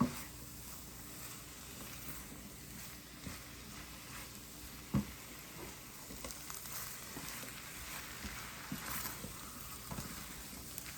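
Flour-coated chicken pieces cook in a pan, giving a soft, quiet sizzle with occasional stirring and tossing sounds.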